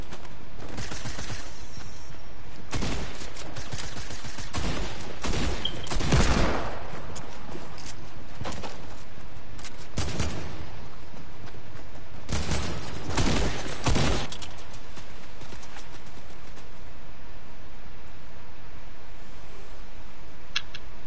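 Gunfire in the video game Fortnite, with repeated bursts of rapid shots and short volleys spread across a steady background, some bursts louder and denser than others.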